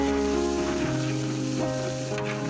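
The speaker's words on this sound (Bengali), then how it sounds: "আদা রসুন ভাজা শেষ হয়ে গেছে," Ginger and garlic, about 300 grams each with a little salt, frying in oil in a large pot for mixed khichuri, a continuous close sizzle with faint stirring and no talking.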